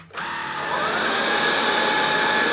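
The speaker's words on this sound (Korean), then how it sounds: "집에 있던 청소기 1번 청소기입니다." A household vacuum cleaner switches on and runs steadily, a loud close whirring motor with a high whine that rises slightly as it spins up, heard alone without talk.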